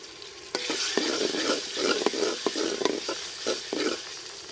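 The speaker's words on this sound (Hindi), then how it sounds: "प्याज हमारे तकरीबन सुनहरे हो गए हैं। अब इस मौके पे हम इसमें टमाटर डाल लेंगे" Onions and tomato fry and sizzle in a pan for aloo palak while a spoon stirs and scrapes in repeated sharp clacks, close and steady, with no voices.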